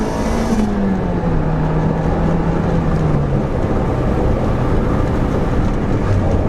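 A Nissan Pulsar GTI-R with the SR20 engine and all-wheel drive, rated around 227 horsepower, runs with a loud, steady, close engine drone whose pitch sinks and then settles lower, and there is no talk.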